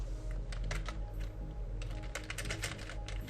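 Keys clatter on a computer keyboard in quick, uneven bursts of typing, close and fairly quiet, with a faint background hum.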